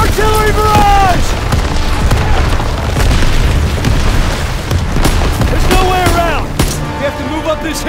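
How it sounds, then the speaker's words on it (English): Artillery barrage in the Call of Duty: WWII campaign on Hill 493, a continuous loud roll of booming shell impacts with shouted voices breaking through and whistling incoming rounds. "Artillery barrage!"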